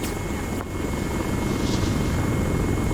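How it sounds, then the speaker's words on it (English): Steady helicopter rotor and engine roar in a combat video game, loud and continuous, with a faint sharp crack of incoming fire early on and no talking. "Blue 4 helicopter taking some shots"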